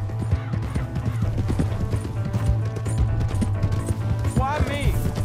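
Horse hooves clip-clop in the video game Red Dead Redemption 2, a steady rhythmic plodding under a constant low engine-like hum and game sounds, with a brief rising whinny-like tone near the end.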